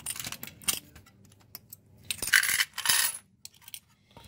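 Silver quarters clinking and jingling together in bursts, close and bright, with a few scattered metallic taps between louder handfuls of coins.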